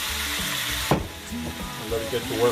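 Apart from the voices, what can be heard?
ginger and dried seasonings stirred in hot oil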